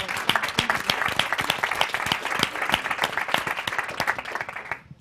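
An audience at a panel discussion breaks into sustained applause, dense close clapping with a few shouts that holds steady for several seconds and then stops abruptly.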